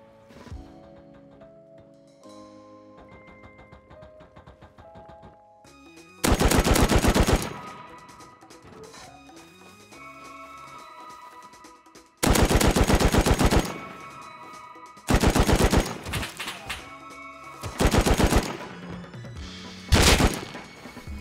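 Gunfire from a gun in Rust: several loud bursts of rapid automatic shots, close by, broken by pauses filled with musical tones and game sounds.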